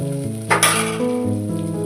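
Tamarind broth sizzles as it is stirred into a pan of brinjal curry, a short close burst of hissing frying noise with a brighter splash partway through, continuing steadily under a low hum.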